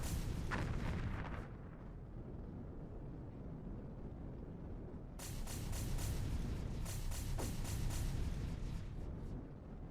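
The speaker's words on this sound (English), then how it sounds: "You guys are apparently weak to the photon guns" Rapid bursts of photon gun fire in the space combat game Star Runner, sharp volleys cracking over a steady low rumble, with a quieter stretch between two clusters of shots.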